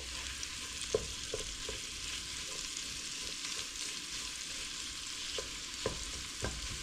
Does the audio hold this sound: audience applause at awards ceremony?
no